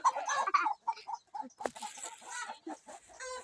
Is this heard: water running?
no